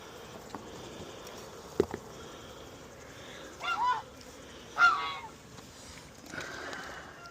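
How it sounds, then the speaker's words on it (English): Geese honk at an apiary, giving a few separate nasal calls at a moderate distance over quiet outdoor background, with a faint click earlier on. "I'm not sure how geese feel about that."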